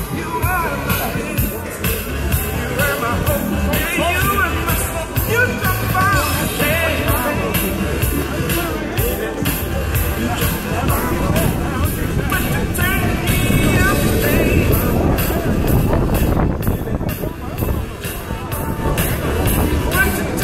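Motorbikes rolling past in a nighttime electric light Christmas parade in Riverside, a continuous loud engine rumble mixed with music, crowd noise and nearby voices talking.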